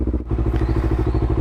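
A Honda CBR250RR fitted with a WRX exhaust idles while warming up from cold, a steady, close, loud rumbling engine burble with a rapid pulsing rhythm.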